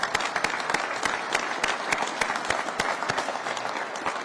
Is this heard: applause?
yes